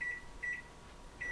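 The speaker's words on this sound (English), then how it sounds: "Kitchen timer, 30." A kitchen timer being set for a batch of sausage rolls gives three short, evenly spaced electronic beeps, clear and fairly close in a quiet kitchen.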